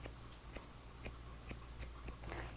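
Hairdressing scissors snip through hair during a beginner's short bob haircut, giving a steady series of crisp, close-up cuts about every half second against a quiet room.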